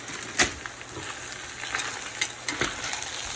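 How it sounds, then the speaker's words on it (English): Meat and vegetables sauté in a hot pan for a filo-pastry filling, giving a steady close sizzle broken by a few sharp scraping stir clicks, with no talking. "And just saute them for about 2 minutes."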